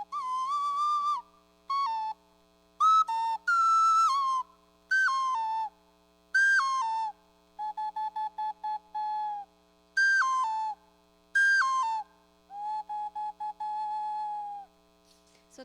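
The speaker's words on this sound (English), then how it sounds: "I have other whistles like this one. You know, it's kind of, if you see it this like way, it's a T-shape, but it sounds pretty cool." A T-shaped Mexican clay whistle plays a series of clear, piercing tones, some sliding and warbling, others held steady, separated by short pauses over a faint steady electrical hum.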